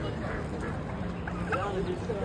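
Ducks quack at a poultry market in Erbil, Kurdistan, where turkeys are also sold; short quacks rise over busy market noise while people talk nearby.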